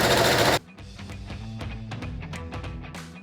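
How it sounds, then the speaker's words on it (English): A sewing machine stitching a blazer lining to the jacket, a fast rattling run of needle strokes after a brief loud noise at the start, close and steady. "Sew the lining and the jacket together."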